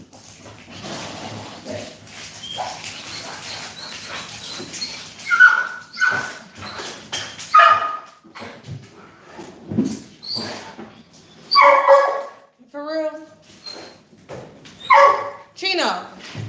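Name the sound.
dogs whimpering and barking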